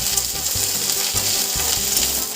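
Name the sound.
curry leaves frying and being stirred in oil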